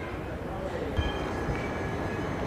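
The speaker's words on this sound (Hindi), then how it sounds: "ये बाड़मेर कालका जो हरिद्वार जाती है, और जो भी साथी शिमला जाने वाले हैं उनके लिए ये ट्रेन तैयार।" Barmer–Kalka Express standing at a station platform bound for Haridwar, with a steady low rumble and hum of the train and station bustle throughout, a couple of faint thumps, and people talking over it.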